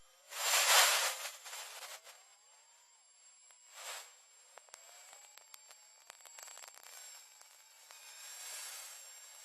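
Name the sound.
space recording of Earth's plasma hiss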